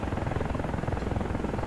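AH-64 Apache helicopter in the DCS World flight simulator, a steady, loud rotor and engine drone filling the whole stretch without a break.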